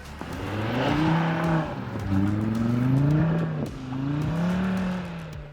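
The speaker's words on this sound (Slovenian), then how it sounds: "Ta avtomobil nima prijetnega, strastnega zvoka samo takrat, kadar na polno rohni." A car engine roars loudly at full throttle during a 4x4 off-road test, climbing in pitch through three strong revving pulls with brief dips between them, up close with no talking.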